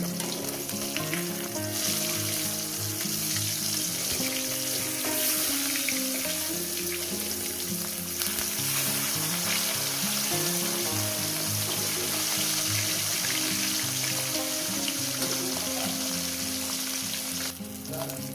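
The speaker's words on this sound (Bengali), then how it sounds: "মাছগুলো আমার ভাজা হয়ে গেছে" Rohu fish frying in oil with a loud, continuous sizzle and crackle up close, steady throughout, with a faint low tonal background underneath.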